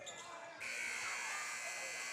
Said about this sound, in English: as the buzzer expires